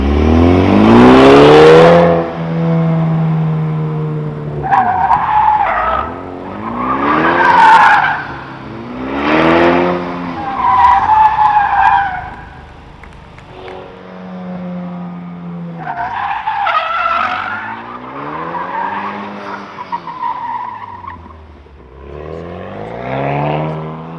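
A 2024 Ford Mustang S650 drifting, its tires skidding and screeching in long wavering squeals while the engine revs and surges between bursts, loud and close with no talking.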